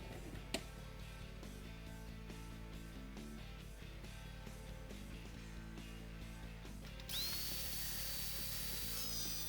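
A power tool cuts into a PC case lid during modding, a steady grinding whine running under the whole stretch and rising into a brighter, harsher tone near the end, close and continuous.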